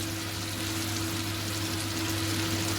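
Pieces of chicken malai boti fry in melted butter in a pan, giving a steady, unbroken sizzle at moderate loudness, with a faint low hum behind it.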